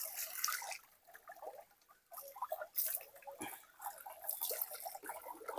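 Water splashing and pattering over a farm animal being bathed with cold water at a farmhouse, irregular drips and patters close by, fairly faint, with no talk.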